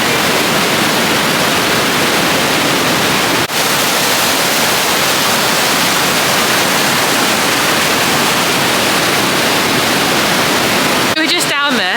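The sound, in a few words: waterfall at Lake District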